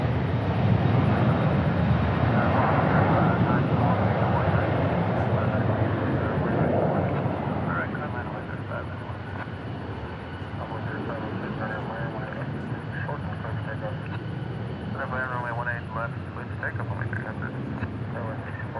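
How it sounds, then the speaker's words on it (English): Airliners arriving and landing at DFW Airport, a broad steady roar of jet engines heard from a distance in the open air, louder at first and then settling, with wind rumble throughout. "We do have inbound arrivals here landing shortly."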